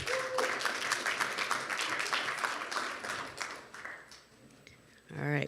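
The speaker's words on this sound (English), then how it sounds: "Round of applause, please." Conference attendees at an energy industry event applaud steadily for several seconds, the clapping fading out before a voice begins speaking near the end.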